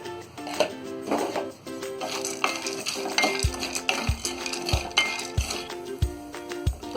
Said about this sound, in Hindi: तो काजू, बादाम, पिस्ता डालकर भी हमने इसे फ्राई कर लिया है